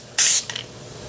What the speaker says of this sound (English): we're gonna see if this one sprays any better